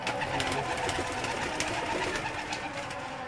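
Several pigeons cooing nearby in a low, rolling murmur, steady and unbroken, with faint background noise and no speech.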